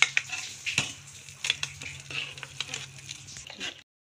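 Wheat khichda with boiled bharda being mixed in a pot, giving soft, uneven squelching and scraping stirs with occasional sharper clicks against the pot, close by and fairly quiet, then a stop.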